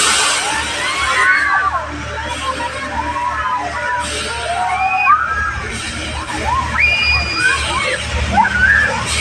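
Frogs at night calling in a busy chorus, with repeated rising squeaky screams overlapping each other against a steady wet, sloshing background, loud and close throughout.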